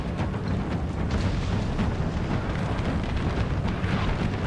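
Artillery fire rumbles across a Napoleon Total War battle, a dense, continuous low roar of distant cannon booms blending with wind-like noise, steady and loud throughout.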